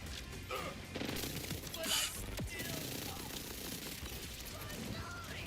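Gunfire and mechanical clatter from the video game Borderlands 4, a dense burst of shots and clacking weapon handling that sounds like reloading, with a voice talking over it.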